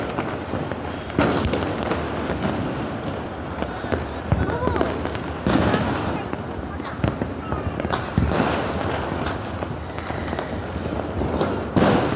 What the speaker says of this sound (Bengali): মনে হচ্ছে পুরো ঢাকা শহর ফেটে যাচ্ছে, পুরো শহরে বোম ব্লাস্ট হচ্ছে।